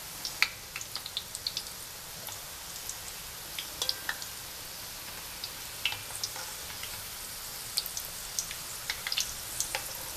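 Polvilho biscuits (cassava-starch dough) fry in hot oil while being stirred slowly, giving a steady close sizzle dotted with sharp pops and crackles throughout, with no voices.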